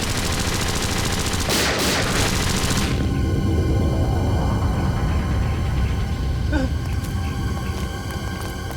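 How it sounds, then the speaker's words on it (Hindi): A missile launches from an island in a TV crime drama scene, heard as a loud, rushing blast of noise that fades into a low rumble over a steady dramatic background. "टापू से मिसाइल छोड़ी गई।"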